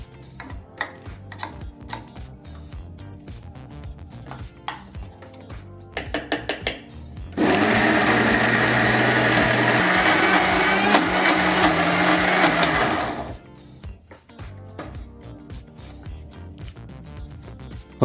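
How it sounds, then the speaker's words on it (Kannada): A mixer grinder whirs loudly for several seconds as it grinds Guddu Khara chutney paste with added water, bracketed by quieter clinks and handling sounds before and after. "ಸ್ವಲ್ಪ ನೀರನ್ನು ಸೇರಿಸಿ ನಾವು ಮತ್ತೆ ಇನ್ನು ಮಿಕ್ಕಿದಂಥ 25 ಭಾಗದಷ್ಟು ರುಬ್ಕೊಳ್ತೀವಿ"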